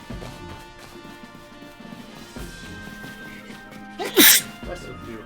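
A single loud sneeze bursts out near the end of an indoor stretch, standing clear above steady background game music and low ambient sound during a Pokemon Legends: Arceus play session.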